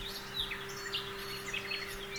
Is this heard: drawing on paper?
no